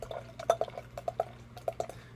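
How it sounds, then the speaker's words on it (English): Dogfish Head Positive Contact, a pale straw-coloured beer, is poured hard into a glass. Close liquid glugs, splashes and fizzing bubbles come in quick bursts over a low steady hum, with no talking. "Very aggressive pour."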